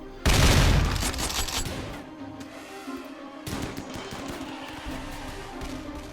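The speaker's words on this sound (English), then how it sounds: "Guns are up. Fire at will." Gunfire from turrets and guns during a battle in the video game Rimworld: a loud opening blast, then sustained rattling volleys that dip briefly before resuming.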